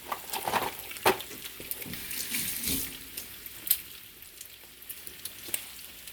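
Eggs sizzling in a hot pan, a continuous frying crackle broken by sharp clicks and taps, close and fairly loud with no talking.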